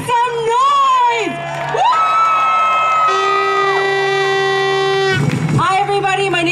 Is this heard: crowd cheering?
yes